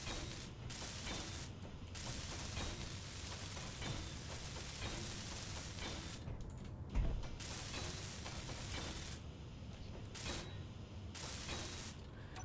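Welding tool running in Space Engineers, a steady crackling, rattling spray that goes on without pause, with short gaps and one brief thump near the middle.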